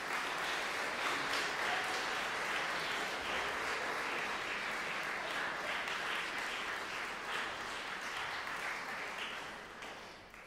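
Sustained applause from a concert audience at a junior music college, dense and steady throughout before slowly thinning toward the end, with no voices over it.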